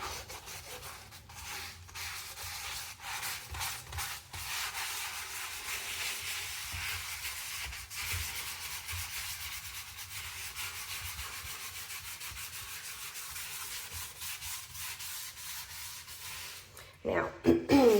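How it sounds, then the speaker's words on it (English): A chrome drain is scrubbed with Magic Kleen cleaning powder, giving close, rhythmic rasping strokes of brush or pad on metal that keep going for most of the time before a brief louder clatter at the end. "So with a quick scrub,"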